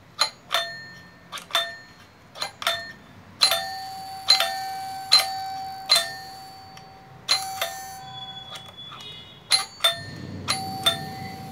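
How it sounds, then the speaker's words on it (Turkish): A doorbell rings again and again, each ding-dong chime sharp and close, with short pauses between presses and no voices. "ding dong bim bam kapı zili"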